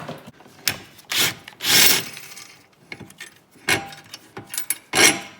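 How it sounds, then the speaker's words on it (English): A 21 mm wrench and socket loosening a rear bushing bolt on a 2014–2018 Jeep Cherokee Trailhawk, a series of short scraping, ratcheting and metallic clinking bursts, close up and alone. "with a 21 millimeter wrench and socket, comes off pretty easy"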